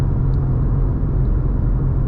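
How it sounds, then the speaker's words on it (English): Steady low exhaust rumble from a 2024 BMW M2, loud and continuous with a deep droning tone and no talking. "The exhaust actually gets pretty loud."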